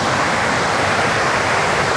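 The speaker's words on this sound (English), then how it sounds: "I don't know if the waterfalls are interfering with the sound" Rushing water from a cluster of tiny waterfalls outdoors along a cross-country walking route, a steady, dense broadband roar filling the whole stretch with no break, close to the microphone with some wind buffeting.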